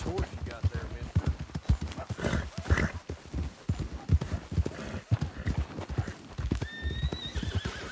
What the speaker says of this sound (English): Nice horse you got there, mister.